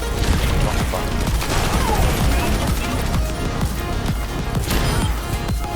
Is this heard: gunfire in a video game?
yes